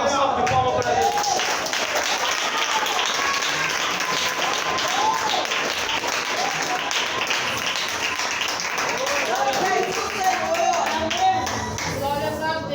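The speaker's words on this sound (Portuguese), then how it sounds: "Uma salva de palmas para Deus." A church congregation at a Saturday service applauds steadily and warmly throughout, with voices calling out and singing over the clapping.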